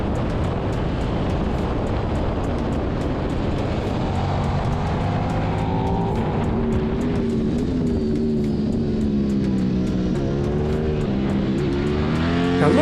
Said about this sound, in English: Now look at this Ducati Street Fighter V4 madman.